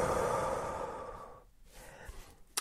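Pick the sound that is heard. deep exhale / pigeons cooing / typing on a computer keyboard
deep exhale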